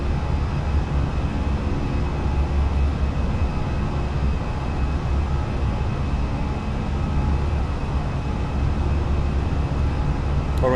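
Engines of a Fenix Airbus A320 in Microsoft Flight Simulator, on a Lufthansa takeoff run, give a steady, loud, broadband roar with no let-up, heard alone without any talking.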